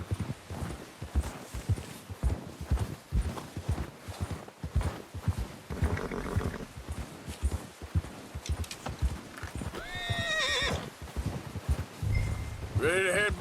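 Horse hooves clip-clop at a walking pace in Red Dead Redemption 2, steady close footfalls with a whinny and some rustling; a voice speaks briefly over them.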